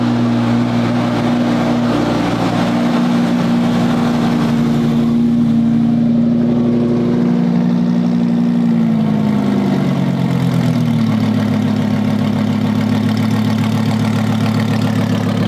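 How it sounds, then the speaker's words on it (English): A Lamborghini Huracan engine at a dealership hums at a steady loud idle with a low droning tone, then the pitch shifts slightly as it is gently blipped partway through. "Gentle dealership revs."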